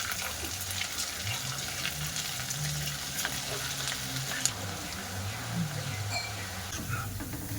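Small pieces of semolina basanti polau frying in hot oil, a steady close sizzle and bubbling with occasional stirring scrapes and a brief clink partway through.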